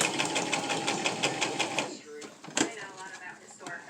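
A sewing machine back stitching at the end of a seam on a fabric mask, with a fast close whirring stitch rhythm for about two seconds before it stops, followed by quieter handling noises and brief talk.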